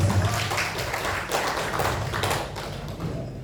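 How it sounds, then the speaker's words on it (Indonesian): An audience at a school teachers' and staff training session applauds, a dense, steady wash of many hands clapping for a few seconds with slight swells and no speech over it. "Cocok, tepuk tangan untuk kita semua."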